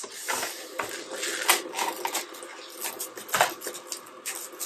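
Crinkly plastic packaging of Peyang Kyushu motsunabe-style instant noodles rustles and crackles in irregular bursts, close up, as the package is handled and torn open.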